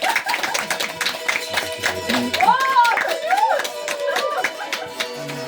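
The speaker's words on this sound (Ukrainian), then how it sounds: "Оплески для Івана, дивіться, грає." Scattered clapping from a small group of museum visitors rises for a man playing the cimbalom, mixed with voices talking and a whooping call partway through.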